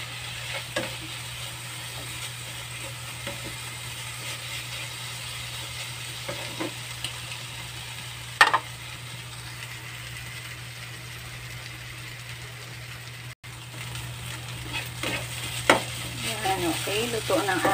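Potatoes fry in a pan with a steady soft sizzle, with occasional light clicks and scrapes of stirring throughout.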